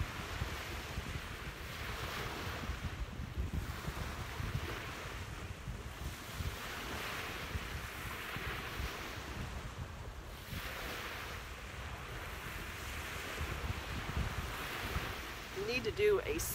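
Surf rolling onto Bonita Beach on the Gulf of Mexico in Southwest Florida, a steady broadband wash of breaking waves with periodic swells, mixed with wind buffeting the microphone throughout.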